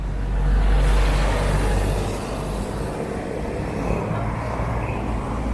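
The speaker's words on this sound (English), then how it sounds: "Got another bus right here, headed southbound." A bus rolls past on a street in Barrio Barretto, Philippines, on a Saturday evening, its low engine rumble swelling close then easing off amid steady traffic noise.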